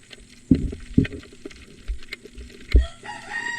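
A rooster crows loudly nearby, with a few clucks and scattered rustling around it.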